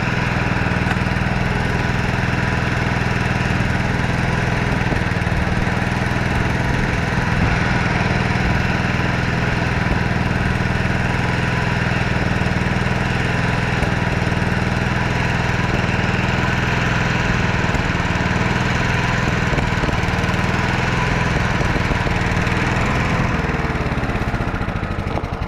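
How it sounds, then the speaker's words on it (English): A Victa Pro 550 self-propelled lawn mower runs steadily at close range, its loud, even engine drone holding constant for the whole stretch with no voices. "This is what mower it is. Victa Pro 550. Bloody good lawnmower."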